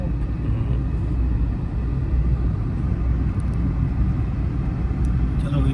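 A car engine runs during a driving lesson, a low, steady rumble from inside the cabin that stays even throughout, with faint clicks near the end.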